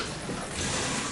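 Water runs hard from a shower head set about six feet high in a tiled bathroom, a steady close hiss with good pressure.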